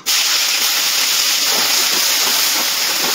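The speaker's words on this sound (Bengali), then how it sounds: "আগে আমি করলাটা ভেজে নেব তেলে।" Salted, turmeric-coated bitter gourd strips fry in hot oil in a pan, an intense, continuous close sizzle that starts abruptly and holds loud throughout, with no voices.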